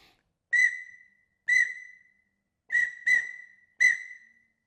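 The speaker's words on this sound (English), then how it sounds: "Now the pintail makes a short trilled whistle that sounds like this." Five short, bright pintail trilled whistles from a 4-in-1 duck whistle, each a quick fluttering note that trails off, evenly spaced with one pair close together.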